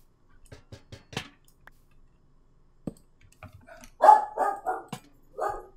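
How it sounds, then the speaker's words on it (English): A dog barks nearby in a few sharp, separate bursts, with faint clicks and light taps before it, in an otherwise quiet indoor room. "And my dog's barking."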